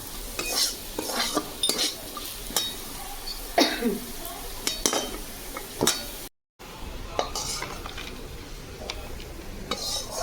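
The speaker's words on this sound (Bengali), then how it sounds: "লঙ্কা পেঁয়াজ বাটা দিয়ে কাঁঠালের বীজ ভাজা" Jackfruit seeds fry with a chili and onion paste in a pan, giving a steady sizzle broken by repeated scrapes and clinks of a spatula stirring against metal, close by.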